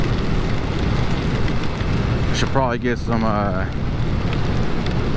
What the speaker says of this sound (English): it's starting to rain a little bit now